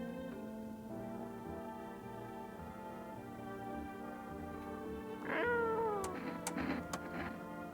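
A cat meows in the video game No, I'm Not a Human, a sustained tonal drone sitting under a short, clear meow that bends downward, followed by a few brief clicks.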